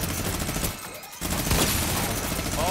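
Rapid sustained minigun fire in a Fortnite Season 8 match, a dense continuous rattle of automatic shots with a brief lull midway before the stream resumes at full loudness.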